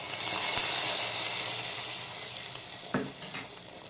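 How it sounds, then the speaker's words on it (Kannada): Hot tempering of pepper and curry leaves hits a boiling potato and black-eyed bean curry, giving a steady loud sizzle and bubbling that fades slightly, with a brief clink of a pan near the end. "ಸಾರು ಕುದಿಯುವಾಗ ಅದಕ್ಕೆ ಈಗ ಒಗ್ಗರಣೆ ಹಾಕ್ತಿದ್ದೇನೆ"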